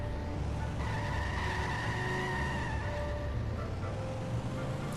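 In The Simpsons Hit and Run, a car skids in a long continuous tire squeal over a running engine, loud and sustained throughout, with faint talk underneath.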